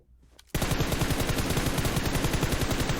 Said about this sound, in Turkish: Çok vurdu ama ben de çok vurdum.